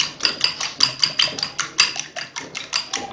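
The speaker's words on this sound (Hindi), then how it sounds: "अब इस बैटर को अच्छे से हम मिक्स कर लेंगे।" Bread pizza batter with milk being whisked in a bowl, a quick, rhythmic series of sharp close clicks and taps from a utensil striking the bowl, with no talk.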